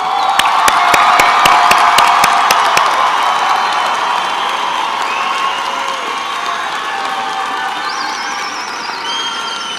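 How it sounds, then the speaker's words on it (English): A crowd of families and guests gives loud, sustained applause with cheering and shouting for a graduating high school class of 2015. It starts with sharp claps and stays strong and steady to the end. "Let's give them a round of applause."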